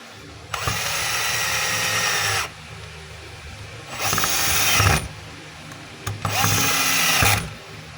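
A power driver whirs in three separate bursts, each about one to two seconds long with a brief rattling onset, as screws are driven into a DeWalt D25032 rotary hammer during reassembly.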